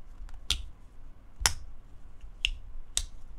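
A traditional pocket knife blade snapping open and shut, four sharp close clicks spaced irregularly about a second apart over a quiet background.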